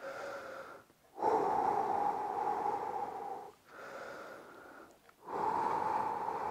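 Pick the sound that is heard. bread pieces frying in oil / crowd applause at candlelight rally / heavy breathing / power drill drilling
heavy breathing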